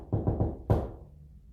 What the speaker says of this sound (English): This is what we captured on audio. So this is actually a spirit doing the shaving a haircut knock for us.